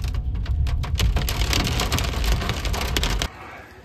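Hailstones drum on a car bonnet during a storm near a temple in Mukteshwar, making a loud, dense and continuous rattle of hard impacts close by. It stops abruptly near the end.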